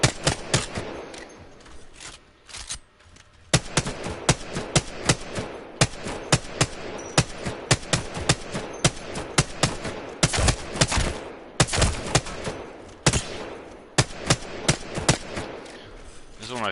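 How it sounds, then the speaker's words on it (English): Repeated single gunshots from a video game shooting range as targets are fired on, sharp separate cracks at irregular intervals over about sixteen seconds, with a short pause early on. "One of my favorite things to do right here is just sit here and just shoot the targets like this."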